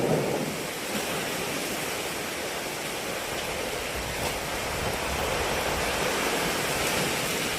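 A steady, roaring wash of heavy monsoon rain fills the whole stretch, broad and unbroken with slight swells, no voices over it.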